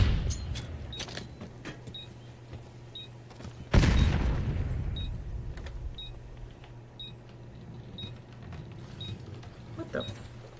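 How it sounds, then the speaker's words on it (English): A concussion grenade goes off in the video game High on Life: one sudden loud boom with a rumbling tail that fades over a few seconds, against a quiet background with faint clicks. "Concussion grenade out."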